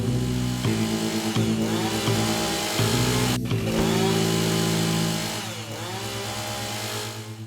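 A maniac's chainsaw in a horror video game roars loudly and continuously, its engine pitch wavering and dipping in repeated strokes, with a sharp burst midway before settling into a slightly quieter steady drone.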